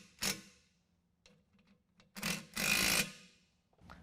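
Tightening hardware with a 15mm wrench on a rear bumper of a 2019 GMC Sierra 1500, heard as sparse metallic clicks and a few short ratcheting bursts, fairly faint and close.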